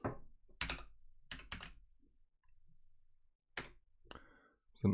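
A few separate clusters of keystrokes on a Keychron K8 Pro mechanical keyboard, sharp close clacks with quiet gaps between them.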